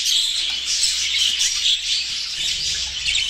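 Dense, continuous chatter of many budgerigars in a breeding cage, bright overlapping chirps and tweets filling the space steadily, loud and close with no voices.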